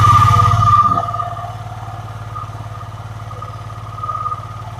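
A Yamaha Aerox scooter engine with a weak battery runs loudly at first, then drops to a steady, pulsing idle nearby, with a brief rise near the end.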